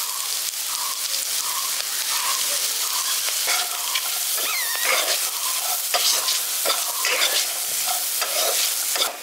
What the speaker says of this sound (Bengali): গরম মশলার গুঁড়োটা দিয়ে ভালো করে মিশিয়ে দিয়েছি